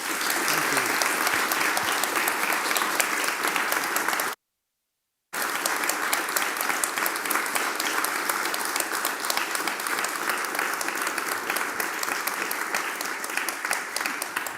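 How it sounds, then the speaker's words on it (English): Sustained loud audience applause at an author conversation event, dense and steady, broken by one brief moment of silence before the clapping continues. "So can I have a round of applause, please?"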